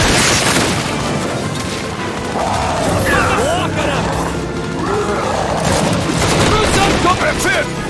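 Heavy gunfire raking tree roots in Gears 5 Hivebusters, a loud continuous barrage of shots and booms with crashing debris, under excited shouted talk.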